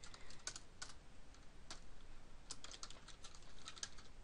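Scattered keystrokes on a computer keyboard while entering a Bukkit server name, faint and close, with irregular clicks over a steady background hiss.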